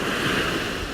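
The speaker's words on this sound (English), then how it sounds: "that's just the sound of the waves washing up on the sand" Ocean waves wash up on a sand beach in a steady, close, continuous surf hiss with no voices over it.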